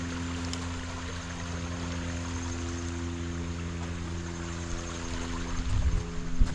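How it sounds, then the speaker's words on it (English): Spencer Creek in the Uwharrie Forest flows with a steady, broadband wash of water that holds even throughout, with a few low thumps near the end and no voices. "And then of course you got your Spencer Creek right here."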